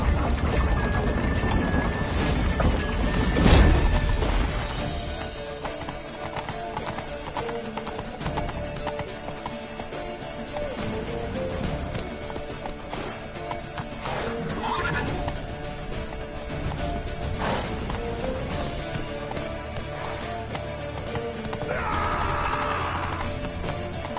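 Hooves clip-clop in a steady galloping rhythm, with a horse neighing and whinnying over a busy background of game sounds from The Witcher 3.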